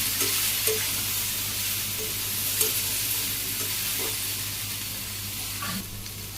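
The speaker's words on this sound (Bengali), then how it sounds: "যে আলু সুন্দর করে কষে নিই একটু সময় নিয়ে" Potatoes with dried chili powder and green chilies sizzle in hot oil, a steady close hiss broken by occasional soft stirring scrapes, with a low background drone underneath.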